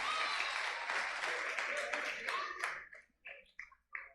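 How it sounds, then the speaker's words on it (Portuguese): Church congregation applause, a short burst of clapping that is fairly loud at first, then thins into a few scattered claps before fading out. "A salva de palmas para o irmão que ajeitou."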